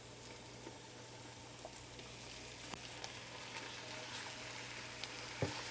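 One and a half pounds of ground beef with onions fries in a pan, giving a faint, steady sizzle with occasional small pops and clicks, heard alone without talking.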